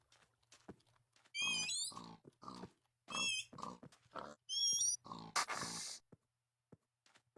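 Pigs in the Minecraft Jurassic Saga mod, a run of short, close grunting and squealing bursts in quick succession, then a few faint clicks as it fades to quiet.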